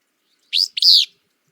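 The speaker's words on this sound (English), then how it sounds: "with the willow flycatcher, it's kind of a fitz-few, like a very hoarse one" A single short, hoarse two-part willow flycatcher song, a quick buzzy note then a longer rasping one, close and clear against silence.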